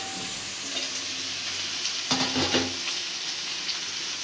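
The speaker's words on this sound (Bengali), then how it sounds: "এখন আমি চিচিঙ্গাগুলো দিয়ে দিব।" Ridge gourd tipped into a pan of frying chopped onion and green chili and stirred, giving a steady sizzling hiss with a brief burst of clattering and spitting partway through.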